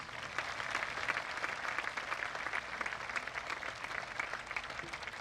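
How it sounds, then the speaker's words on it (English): Faint, steady crowd applause in a hall at an eighth-grade promotion ceremony, dense clapping from many hands sustained evenly through the whole stretch, distant and soft. "If we could give them a round of applause."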